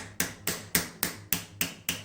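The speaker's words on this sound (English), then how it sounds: "Using a punch and hammer, drift out the firing pin retaining pin." A hammer taps a punch to drift out the firing pin retaining pin of an SKS bolt, seven sharp metallic strikes at an even rhythm, close and clear with no talking.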